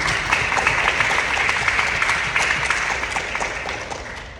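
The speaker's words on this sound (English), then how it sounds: "give yourself a round of applause" An audience at a middle school honor roll assembly applauds steadily, a dense wash of clapping hands that holds loud for several seconds and slowly tapers toward the end.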